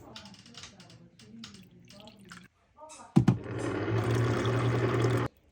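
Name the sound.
pouring sweet tea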